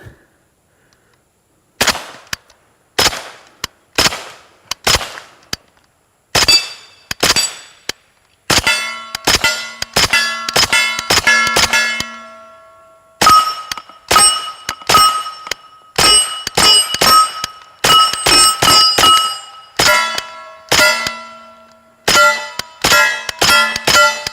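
A Kalashnikov USA KP9 fires at an outdoor range, with sharp shots striking steel targets that ring out in single hits at first and then rapid double and multiple clangs, loud and close, with lingering metallic tones.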